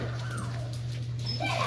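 A dog whimpers close by in a dog class setting, with thin, rising whines over a steady low hum and faint background voices.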